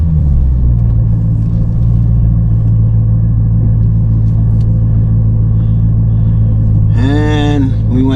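Car engine idling before warm-up with the idle speed dropping, a loud, steady low rumble heard from inside the vehicle throughout, with a brief voice near the end.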